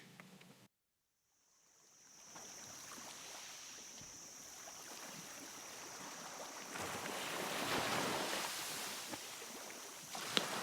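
Surf rolling onto Cromer Beach on the Norfolk coast: after a brief silence, a steady wash of waves builds, swelling louder midway, with gusty wind against the microphone and no voices.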